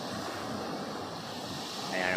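Large sea waves at a fishing area where small boats go out for squid, heard as steady broadband surf and wind rush, fairly loud and continuous, with a slight swell toward the end.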